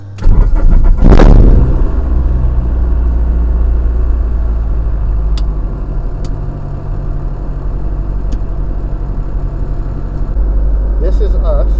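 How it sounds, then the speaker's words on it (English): Small airplane engine cranks over and catches, then settles into a loud, steady idle drone heard close from inside the cockpit, with a few faint clicks and a brief voice near the end. "I'm gonna start the engine."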